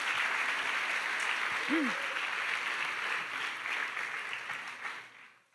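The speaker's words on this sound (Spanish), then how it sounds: "Démosle un fuerte aplauso." Steady applause from a church congregation fills the hall for a woman who has just shared her testimony, dense clapping holding on for several seconds before fading out, with a brief voice rising over it partway through.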